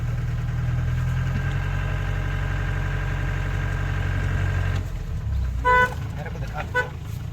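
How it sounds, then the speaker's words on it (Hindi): An old Mahindra Jeep CJ 500 with an MDI diesel engine runs with a steady, deep rumble for several seconds, then the engine note shifts and a short horn toot sounds. "4 नंबर पे चला रहा हूँ 4th गियर पे, गाड़ी बिल्कुल नहीं घुट रही है।"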